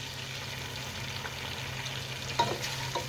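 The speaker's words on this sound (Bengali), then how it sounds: "এখন আমি দিয়ে দেবো পেঁয়াজটা" Onion frying in hot oil with whole spices such as bay leaf and black pepper for chicken biryani: a low continuous sizzle with a couple of stirring scrapes near the end, no talking.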